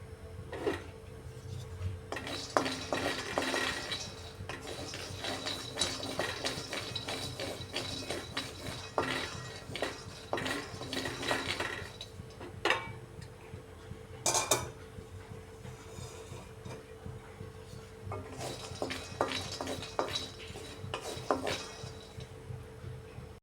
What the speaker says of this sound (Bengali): সে একটা কড়াই বসিয়ে দিয়েছি, এর মধ্যে চিনেবাদামগুলো ভেজে নিচ্ছি।